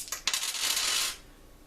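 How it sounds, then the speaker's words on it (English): Dice rolled for the Set A Watch board game, a quick clatter of a few hard taps and tumbling rattles on a table that settles within about a second, close and alone. "We roll our dice now."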